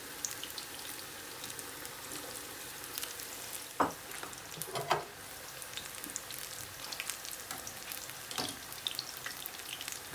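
Battered aubergine (brinjal) pakora fries in hot oil, giving a steady soft sizzle with occasional pops and brief clinks as the pieces are turned. Nobody speaks.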